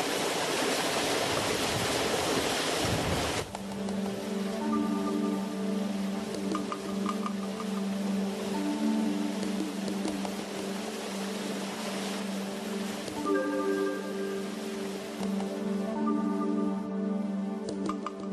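Water of the Manzanas river rushes past a working mill in Aliste, Zamora, a loud steady wash that drops abruptly after a few seconds. A low droning hum and tonal whirring continue beneath.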